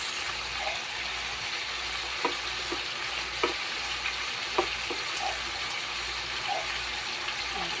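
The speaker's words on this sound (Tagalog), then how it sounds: "Pwede na natin ilagay yung ating bawang na nagluluto. Lagay na rin natin sibuyas." Garlic and onion fry in a pan with a steady, close sizzle, broken by a few soft clinks and scrapes of stirring; no one speaks.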